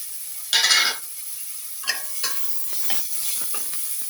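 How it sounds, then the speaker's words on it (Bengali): Ginger and garlic paste hits hot oil in a pan for a spicy Indian jewfish curry, giving a loud sizzling burst early on, then quieter intermittent scrapes and stirring sizzles. "তারপর এর মধ্যে আমি আদা এবং রসুনের পেস্ট দিয়ে দেবো।"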